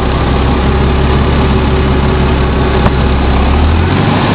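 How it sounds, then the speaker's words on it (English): A vehicle engine with a vacuum leak, plumbed through a plain vacuum tee for the brake booster, drones loud and steady at a constant rumble throughout, with no voices. "hear the engine speed up"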